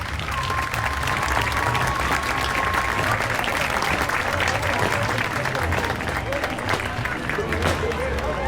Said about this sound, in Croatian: Pozdravimo još jednom velikim pljeskom prijatelje Meksikance.